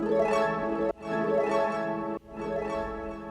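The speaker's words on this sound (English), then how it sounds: "then you get the stereo delay going off to the left and to the right" A textural, organic electronic drum loop runs through a stereo delay, repeating in roughly one-second phrases with dense, smeared echoes trailing each hit. It plays loud and alone with no talk.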